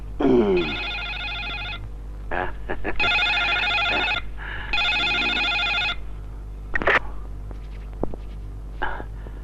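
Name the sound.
telephone ringing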